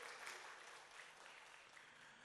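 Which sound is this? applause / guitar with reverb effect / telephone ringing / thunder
applause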